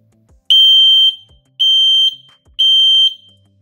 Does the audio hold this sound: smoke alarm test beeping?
yes